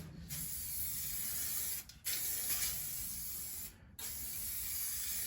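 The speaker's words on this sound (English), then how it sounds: "I'm going to do a final dust coat over the two. So we'll just dust them over." A spray gun laying a dust coat of metallic paint on a Jeep Patriot, a steady close hiss in two long passes with brief cutoffs between them.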